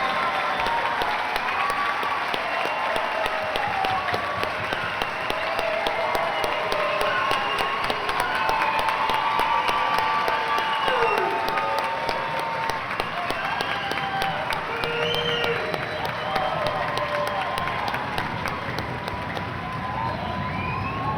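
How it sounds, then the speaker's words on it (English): Audience applause for a graduating class at a junior high graduation ceremony, sustained dense clapping with crowd cheers and whoops layered throughout, loud and continuous. "Let's give the graduating class of 2025 a big round of applause."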